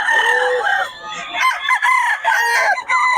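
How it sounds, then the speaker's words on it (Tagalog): Chickens and roosters on a farm crow loudly and close, with overlapping drawn-out cock-a-doodle-doo calls and some clucking between them, several birds sounding at once. "quality mga manok ni Boss Gaga"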